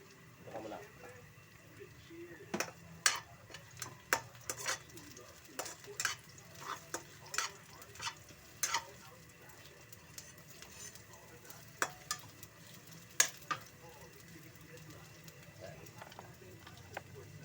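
Vegetables are sautéed in a frying pan for ginataang gulay, with a soft steady sizzle beneath repeated sharp scrapes and clinks of a utensil stirring against the pan.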